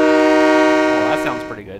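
A train horn in Train Simulator Mechanic 2017 sounds one loud, sustained tonal blast close up and then cuts off, as a voice starts talking over the tail end.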